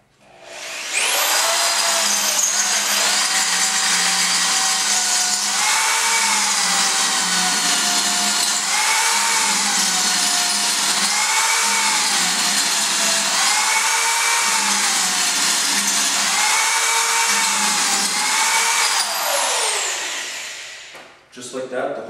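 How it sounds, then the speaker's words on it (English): A power drill whines steadily for about twenty seconds, drilling out a hole in a cylinder head without cutting fluid, its pitch rising and dipping as it bores through, then winding down at the end. "you go ahead and drill the hole out"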